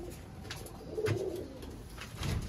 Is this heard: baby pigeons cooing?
yes